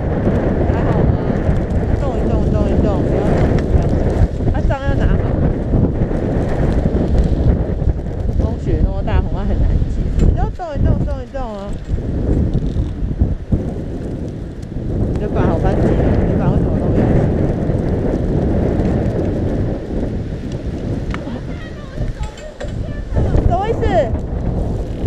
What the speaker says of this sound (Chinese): 有没有风很大，很难滑？